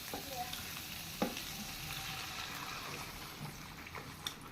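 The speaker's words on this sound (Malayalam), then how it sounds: "നമ്മൾ ബീഫ് ഇതിലേക്ക് ഇട്ട് കൊടുക്കാം." Beef dropped into a hot pan for a Malayalam-style beef dish, sizzling and bubbling steadily up close with a couple of sharp clatters from a spoon or lid.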